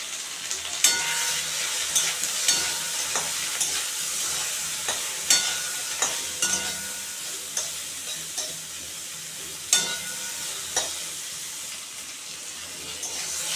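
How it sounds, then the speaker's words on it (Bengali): Okra with turmeric and salt sizzles in a pan while a spatula scrapes and stirs in repeated sharp strokes over a steady frying hiss, close and alone. "তো বন্ধুরা, ভেন্ডিগুলো ভাজা ভাজা হয়ে গেছে"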